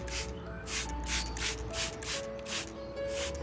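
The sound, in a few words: spray bottle misting an orchid plant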